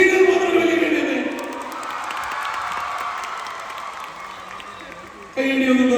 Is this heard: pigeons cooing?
no